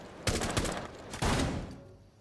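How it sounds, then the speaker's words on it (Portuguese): Gunfire crackles in a scene from a comedy film: two loud, close bursts of rapid shots, each trailing off after about a second, with no speech over them. "Que tiro foi esse?"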